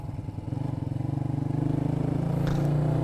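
A Bajaj Rouser NS125 Fi motorcycle fitted with a full-system muffler rides along the road, its single-cylinder engine holding a steady, throbbing drone near the listener, with no talking.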